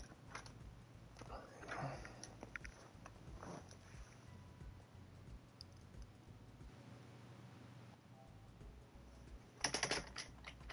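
Keys clacking on a computer keyboard plugged in during a gaming session, soft irregular taps and clicks at close range with a louder flurry near the end, faint and sparse, no speech.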